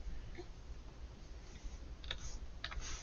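Keys on a computer keyboard being pressed to type an answer: a few crisp clicks come in a cluster near the end, close by, over a low steady room hum with no talking.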